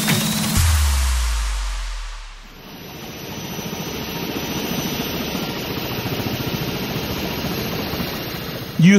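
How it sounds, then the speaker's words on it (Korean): A news helicopter flying over Seoul above the Bank of Korea in Namdaemun makes a steady, close rotor and engine roar with a broadband rushing whine. A loud low thump opens the sound, and no voices are heard. "뉴스 헬리콥터를 타고 뉴스의 현장을 누비고 있습니다."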